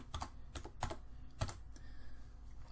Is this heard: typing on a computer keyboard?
yes